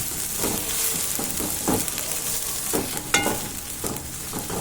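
Onion, tomato, curry leaf, mustard seed and spice masala sizzles in a pan for ridge gourd gravy while a spoon stirs it, with soft scraping strokes over a steady frying hiss and no talking.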